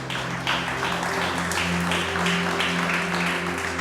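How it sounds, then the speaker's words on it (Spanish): A church congregation applauds in a steady wash of clapping, moderately loud and sustained over a low hum with faint tones underneath. "Dale ese aplauso al Rey."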